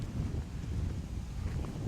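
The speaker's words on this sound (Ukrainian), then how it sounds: "Сьогодні такий теплий вітер." Wind buffets the microphone in a steady low rushing roar, gusting slightly, with no voices present.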